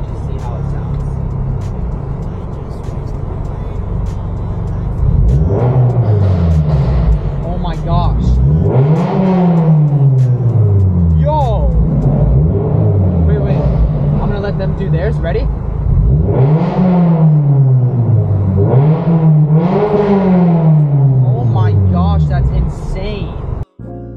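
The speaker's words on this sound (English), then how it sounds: "They're popping this thing like crazy, their cars." Several cars rev hard nearby, engines rising and falling in repeated sweeping pulls with crackling exhaust pops between throttle blips, loud and close, with people talking over the noise.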